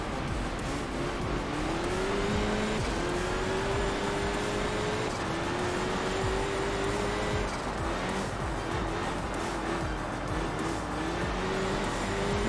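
A race car in the Enthusia Professional Racing video game, oversteering through tight corners, drones with a steady engine note that climbs and drops through gear changes, with faint tire squeal under a dense wash of noise.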